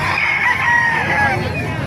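A rooster crows nearby at a chicken market in Calumpit, Bulacan, in a long, strained call, with other fowl faintly audible in the background.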